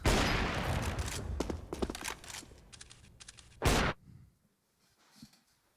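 Counter-Strike gunfire on the Mirage map during a professional IEM Katowice match: a run of sharp, rapid shots ends in one loud burst, then near silence.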